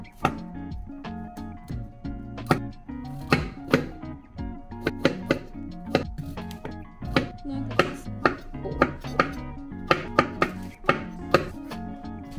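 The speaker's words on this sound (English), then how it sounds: "Lots of chopping to do, people." A knife chops vegetables such as cucumber, broccoli, tomato and mushroom on a cutting board in a home kitchen, a steady run of close, crisp thuds at an uneven, brisk pace.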